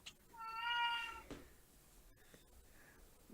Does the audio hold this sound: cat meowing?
yes